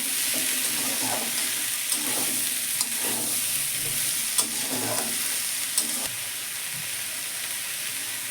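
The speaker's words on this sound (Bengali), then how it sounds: "বরবটিতে দিয়ে একটু নেড়ে নেব মশলার সঙ্গে" Yardlong beans with spices being stirred in a frying pan (kadai): a steady hiss of frying with soft scraping stir strokes and occasional light clacks, close and continuous for the whole stretch.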